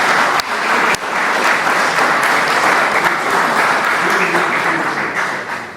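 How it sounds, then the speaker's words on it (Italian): Steady, dense audience applause filling the room, a few sharper claps standing out early on, then slowly tapering toward the end. "Mi aspettavo un applauso"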